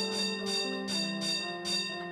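A bell rings in a steady repeating rhythm, about four resonant strikes each fading into the next, in a household scene from a Marathi TV serial.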